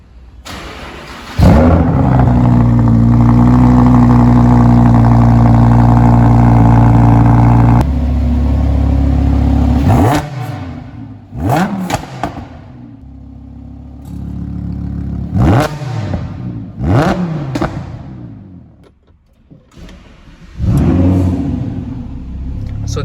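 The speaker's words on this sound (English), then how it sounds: "now I'm going to fire up this beast and let's hear the race exhaust from Lamborghini, and also this is going to be a cold start." A Lamborghini Huracan with a race exhaust cold-starts with a loud bark, settling into a heavy, high idle before a series of sharp, throaty revs that rise and fall close by.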